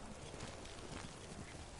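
Rapid hoofbeats of a galloping horse in Ghost of Tsushima, steady and fairly loud, over a dense wash of game background noise.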